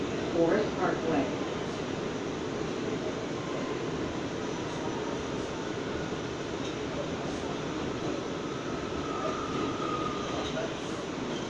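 An R179 New York subway train on the J line runs at night with a continuous rattling rumble of wheels on track, with a faint screech of metal partway through.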